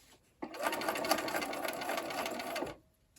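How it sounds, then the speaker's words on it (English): A sewing machine stitches straight down a marked line on quilt fabric squares for a sawtooth star block, running in one steady, close burst of about two seconds and stopping cleanly. "Now I'm going to sew directly down on that line."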